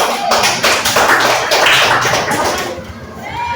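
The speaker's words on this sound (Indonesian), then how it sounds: "Beri tepuk tangan." Classroom applause for a student group that has just presented, a loud burst of many hands clapping together that fades slightly toward the end.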